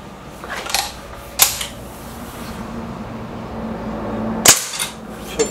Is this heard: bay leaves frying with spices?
no